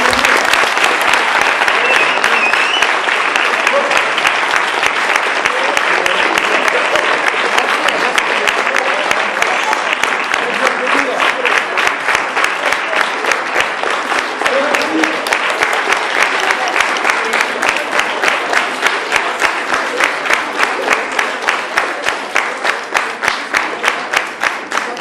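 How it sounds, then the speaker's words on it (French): Long, loud applause from a school audience after a poetry recital: dense, continuous clapping that gradually settles into a steady, even rhythmic pulse toward the end. "Vous pouvez encore les applaudir."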